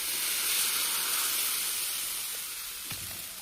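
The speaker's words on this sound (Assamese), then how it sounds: "আমি এতিয়া ধোচা বনাব লৈছোঁ দেখিছে পিঠাগুড়ি হয় ইয়াত আমি তেল দিয়া নাই বিনা তেলত ধোচা বনাম" Dosa batter sizzling on a hot pan cooked without oil, a faint, steady airy hiss running evenly throughout with a slight tapering near the end and one small clink.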